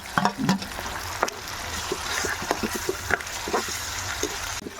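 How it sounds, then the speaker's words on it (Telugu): Green chillies and ground tomato paste fry in hot oil for a prawn curry, giving a steady soft sizzle broken by scattered clicks and scrapes of stirring, close by with no talk. "అవి కొంచెం ఫ్రై అయిన తర్వాత ఫ్రెండ్స్ నూరుకున్న టమాటా ముద్దను అందులో వేసేసుకోండి"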